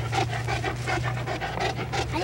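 Rapid, rhythmic panting from a dog sounds up close and steady throughout, each quick breath in and out following the last, with a low hum underneath.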